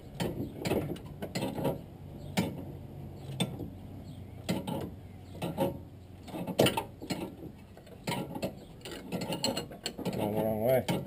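A ratchet wrench clicks in repeated quick bursts while someone works on a car, with uneven strokes and brief pauses, loud and close throughout.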